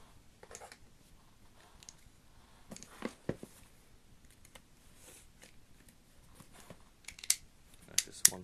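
A Loot Crate subscription box is opened by hand, with scattered cardboard scrapes, tape tearing and crinkly rustles that come in quiet bursts and grow sharper toward the end.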